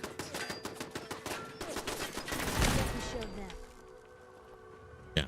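Turret gunfire in the video game Fallout 4, a rapid run of sharp shots for about three seconds, louder toward the middle, then fading into quieter game ambience, with one final loud hit at the end.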